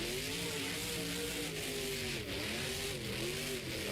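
The Kamikaze Monster Jam truck's engine roars steadily at an Indy series event in Lamar, a loud sustained rumble with shifting revs and broad crowd-and-arena noise around it.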